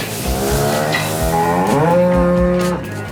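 Cows in homemade calving pens on a Welsh farm let out a loud, close, drawn-out moo with wavering pitch lasting a few seconds, with no talking over it.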